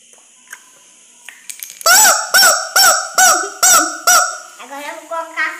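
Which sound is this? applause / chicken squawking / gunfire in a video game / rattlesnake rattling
chicken squawking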